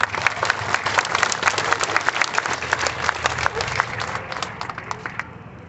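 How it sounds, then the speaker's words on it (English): An outdoor audience at a community center inauguration in Canyon Country claps steadily in a sustained round of applause, fairly close, which gradually thins and fades near the end. "Katie, let's give her an applause."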